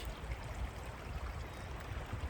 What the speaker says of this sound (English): Listen to the sound of the rushing water